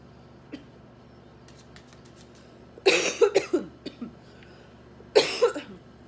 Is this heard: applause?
no